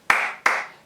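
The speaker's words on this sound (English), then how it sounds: "clapping a couple times." Two sharp hand claps in quick succession, close and crisp, each with a brief decaying ring in a quiet room.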